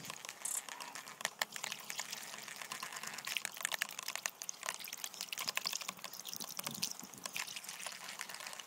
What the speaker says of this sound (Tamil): அடுத்ததாக இதை தண்ணியோட நல்ல மிக்ஸ் ஆகுற மாதிரி கலக்கிடலாம்.